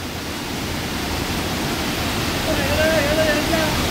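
Steady roar of Karumparai waterfall near Keeriparai in Kanyakumari district, a broad continuous rush of falling water heard close and loud throughout, with a faint high whistle-like tone rising briefly near the end.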